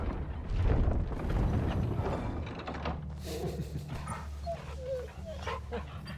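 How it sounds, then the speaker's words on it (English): Torgal, the wolf dog in Final Fantasy XVI, gives a few soft whimpers and dog vocalisations over game ambience and music, following a louder rumbling stretch; no speech. "Always take an opportunity to love on the puppy."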